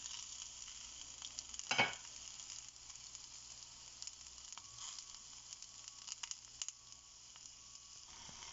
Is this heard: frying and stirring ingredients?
yes